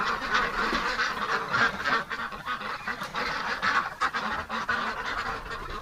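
A flock of ducks inside a barn in winter, honking and quacking continuously in a dense, loud chorus of overlapping calls close by, with no talking.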